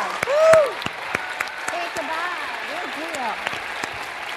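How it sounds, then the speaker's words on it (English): Audience applause at a school reading program event, brisk clapping beneath an excited voice calling out and cheering over it. "let's give him a big round of applause."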